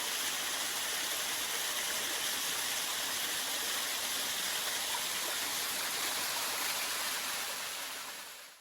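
Water rushes continuously through a small gill stream cut into Ardingly sandstone in the High Weald, near the source of the River Mole, a close, even broadband wash that fades out at the very end.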